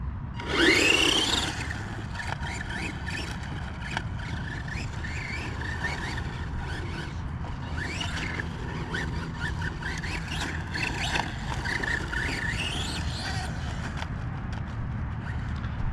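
Tamiya Blitzer Beetle RC car on a construction site, its small electric motor whining and revving in bursts with gritty tire scrabbling over dirt and gravel, a sharp loud burst near the start, then steady mid-distance driving.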